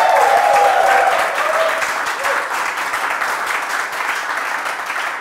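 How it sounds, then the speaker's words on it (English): Audience applause fills an auditorium at the close of a game show, a dense sustained clapping that is loud at first and then eases slightly while continuing steadily to the end. "give yourselves a round of applause"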